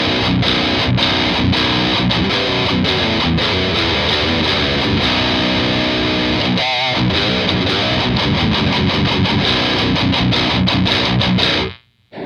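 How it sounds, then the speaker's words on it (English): Heavy metal riffing on a guitar tuned to B standard, played straight into an amplifier with no pedal, loud and distorted with fast chugging palm-muted rhythms and brief pauses, stopping abruptly at the end. "This is how the amplifier sounds without pedal."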